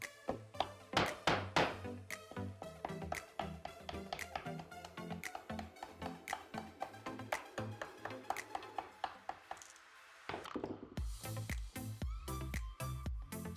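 Hammer strikes a chisel to cut out wood for a custom door jamb on a salvaged door, giving a steady run of sharp, close taps with a brief pause before the blows resume.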